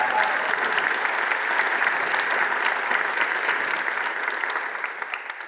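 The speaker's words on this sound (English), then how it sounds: "Let's give a big clap." Conference audience gives a steady, dense round of applause at a welcome speech, sustained throughout and tapering slightly at the end, with no talk over it.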